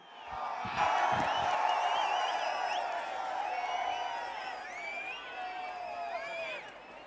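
Large outdoor political rally crowd in Vasudevanallur, Tamil Nadu, cheering and whistling in a steady, loud roar with rising shouts and whoops throughout.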